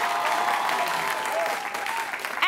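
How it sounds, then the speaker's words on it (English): A studio audience at a high school quiz competition applauds steadily, dense clapping with a faint tonal hum and a voice beginning over it at the end. "big round of applause for both of our teams"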